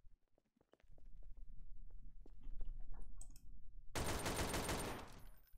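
Gunfire in the game Trouble in Terrorist Town: quiet clicks and a rattling run of shots, then a sudden loud burst of rapid fire near the end, with no talk.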